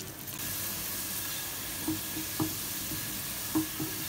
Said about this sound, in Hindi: प्याज जो कटिंग करी थी ये डाल दिया हमने अब हम इसको कम से कम इतना पकाएंगे कि ये बिल्कुल सुरख हो जाए